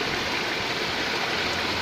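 Moderate rain falls with water running steadily nearby, making a continuous dense rushing wash, loud and close, with no voices.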